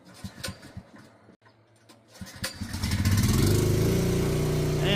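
Portable generator starting up during a home hook-up, sputtering and ticking briefly before settling into a loud, steady running drone that fills the rest of the clip.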